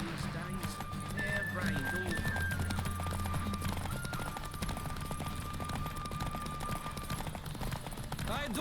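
Horse galloping in The Witcher 3 video game: steady clip-clop hoofbeats with occasional neighing, running continuously under game music and a voice.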